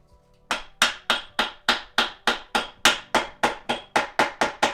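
A hammer gives about fifteen evenly spaced, sharp metallic taps, close and loud, driving a tight-fitting differential bushing into a BMW E36 rear end.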